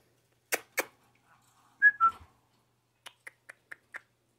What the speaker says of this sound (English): I'm trying to make the whistle I do very consistent